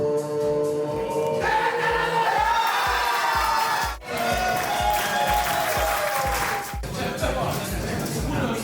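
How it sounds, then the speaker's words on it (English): Audience at a Budapest haircut show claps to vote for the haircuts, steady loud applause with crowd cheering and chatter throughout, over a pounding rhythmic music beat. "We're gonna make them clap to see who makes more noise for who."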